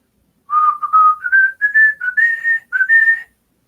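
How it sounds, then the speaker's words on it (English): A light whistled tune of several short rising notes, clear and alone against silence. "listen for a very light whistle"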